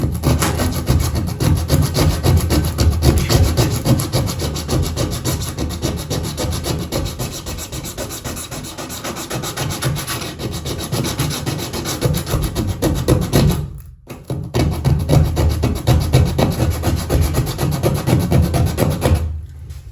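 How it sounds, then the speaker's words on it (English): Steady, loud hand sanding of a fiberglass shower with 80 grit sandpaper, continuous rough rubbing strokes up close with a brief pause near the end. "I'm using 80 grit sandpaper, and I'm just gonna hand sand this"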